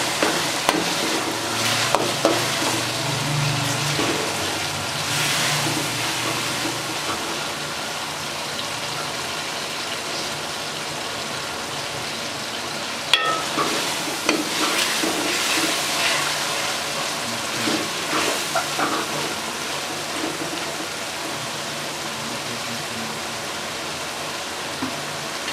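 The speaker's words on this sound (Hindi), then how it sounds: "टमाटरों को अच्छे तरीके से फ्राई करेंगे।" Chopped tomatoes fry in a pan with a steady, hissing sizzle, while a spoon scrapes and stirs in bursts, loudest near the start and again just after the midpoint.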